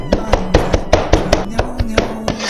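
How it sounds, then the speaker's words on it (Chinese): Blanched, squeezed-dry radish chopped with a cleaver on a board for meatball filling: a steady run of sharp, close knocks, about four per second, with no talk. "把萝卜剁一剁"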